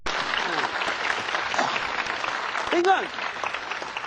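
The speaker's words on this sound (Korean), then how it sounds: "박수 한번 치세요." Lecture audience clapping on request, a dense, continuous wash of applause, with a speaker's voice briefly heard over it near the end.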